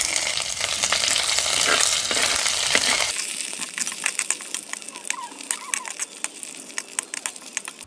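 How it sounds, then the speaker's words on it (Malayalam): Mustard seeds, dried chillies, curry leaves and crushed ginger-garlic crackle in hot oil for a snakehead fish curry; a dense sizzle gives way to sharp popping spatters and clinks. "നമുക്ക് കടുക് ഇട്ട് കൊടുക്കാം, അതിലോട്ട് വറ്റൽമുളക് ഇട്ട് കൊടുക്കാം, കറിവേപ്പില, ഇഞ്ചി വെളുത്തുള്ളി ചതച്ചിട്ട് കൊടുക്കാവേ"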